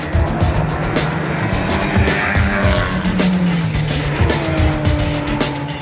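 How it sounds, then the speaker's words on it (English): Fiat Abarth 500 Cup race car, a one-make championship racer built on the Fiat 500 shell, drives hard with a steady loud engine roar and tyre squeal, continuous throughout. "So this is the Abarth Cup car."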